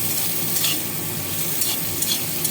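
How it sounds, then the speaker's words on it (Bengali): Papaya pieces with salt stirred and frying in hot oil over a spice tempering, a steady dense sizzle with occasional scraping clatters, no voices. "ফোড়নটা ভাজা হয়ে গেছে, দিয়ে দিচ্ছি পেঁপে, দিয়ে দিলাম লবণ।"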